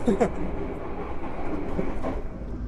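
The Sembrani luxury passenger train in Java rolls along with a steady rumble and faint rhythmic clatter, the carriage swaying, heard from inside, a few faint noises mixed in.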